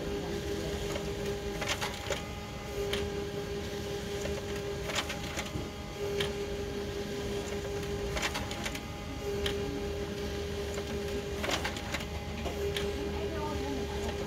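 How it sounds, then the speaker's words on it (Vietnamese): An HP LaserJet Pro M28 laser printer runs through continuous copies with a steady mechanical whir, a faint tone and repeated sharp clicks as pages feed, close and constant for the whole stretch. "ngay khi mà chiếc máy in này dừng in thì tôi sẽ bấm đồng hồ dừng lại"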